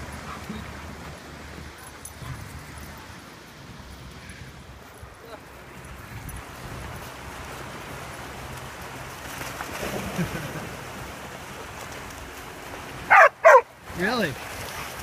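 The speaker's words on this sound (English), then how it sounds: "Oh, they're barking." Dogs on a morning group dog walk near water let out two or three sharp, loud, close barks toward the end, following a long stretch of steady outdoor rumble and rustling.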